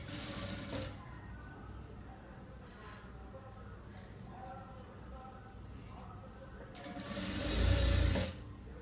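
A sewing machine stitches folded blouse fabric in short, close mechanical runs, rising to a louder whirring burst near the end, with a quiet voice speaking during the stitching.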